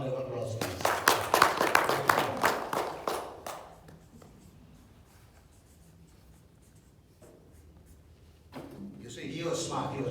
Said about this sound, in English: Give me a round of applause, please.